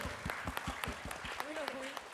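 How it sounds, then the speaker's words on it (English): A small audience at an academic visit claps for guests, a modest spaced patter of individual hand claps, fairly quiet, with a voice talking over it partway through. "Please give a warm round of applause to our guests today"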